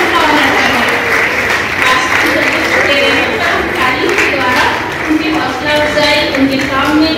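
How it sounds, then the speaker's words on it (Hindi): Church congregation applauding at a Methodist celebration day, steady continuous clapping filling the room with a voice singing or speaking faintly over it. "कलीसिया से रिक्वेस्ट है कि वो तालियां बजाते रहें, ताकि हम ताली के द्वारा उनका ऑनर करें"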